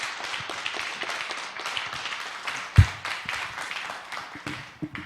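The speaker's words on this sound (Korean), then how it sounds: "우리 최하준희 교수님께 박수 한번 드리죠" Listeners at a Psalms lecture series clap for the professor after the talk, an uneven patter of hands with one sharper thump partway through.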